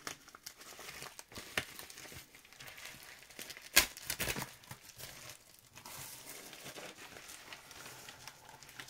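Crinkling and tearing of a wrapped craft package holding a redecorated wooden spoon as it is opened, with steady close crumpling throughout and a sharp rip near the middle.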